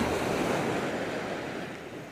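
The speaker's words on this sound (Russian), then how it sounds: "Сегодня обалденное море" Sea waves wash steadily onto the shore in a broad, continuous rushing surf with some wind, fairly loud and with no voices.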